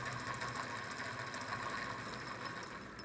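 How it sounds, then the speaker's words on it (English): A small lamina flow Stirling-like engine with a graphite piston and a magnet-weighted flywheel runs fast at about 850 rpm, giving a steady, close mechanical whir with a fine rapid rattle and no speech. "850 is the fastest I've seen this engine go so far."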